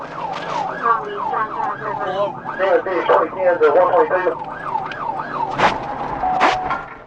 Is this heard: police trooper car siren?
yes